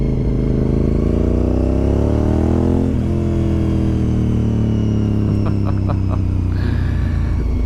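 A Honda RC51 SP2 V-twin sport motorcycle engine holds steady at about 4,000 RPM, a loud, close, continuous droning hum with a slight pitch sweep partway through and some faint ticking near the end.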